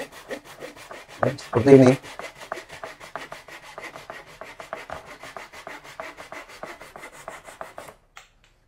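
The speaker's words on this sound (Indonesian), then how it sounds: "Ini saya potong ya pakai gergaji Jepang yang murah nih" A cheap Japanese handsaw cuts a thin PVC board in rapid, even rasping strokes, close and steady for several seconds after a louder burst near the start. A voice speaks briefly.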